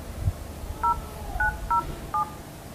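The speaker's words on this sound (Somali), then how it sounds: "taxi baan u wacaya" Telephone keypad dialing a number to call a taxi: four distinct DTMF beeps, short and evenly spaced, clear and close over quiet background.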